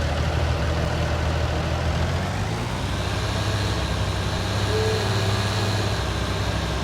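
A tractor engine in Farming Simulator 19 drones steadily at a logging plantation, a loud, unbroken low rumble with no talking.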